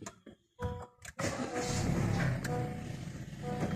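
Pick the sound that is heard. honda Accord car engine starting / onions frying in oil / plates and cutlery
honda Accord car engine starting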